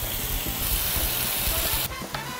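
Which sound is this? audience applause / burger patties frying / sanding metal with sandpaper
burger patties frying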